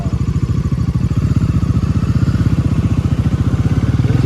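A Bajaj NS400Z motorcycle engine idles close by with a loud, steady, rapid low thump, running evenly throughout with no voices.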